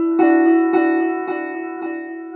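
An electric guitar played through a delay effect, each picked note echoing back in a steady repeating rhythm. The tone is clear and sustained, with the repeats trailing off gradually and no voices.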